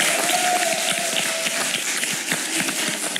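Studio audience on a Slovak-Czech show clapping in a steady, moderately loud patter of hands, with a faint tone briefly running underneath.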